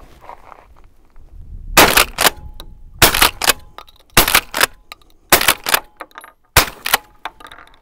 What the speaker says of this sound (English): you'll get to see what the Rex Silentium SEG12 shotgun suppressor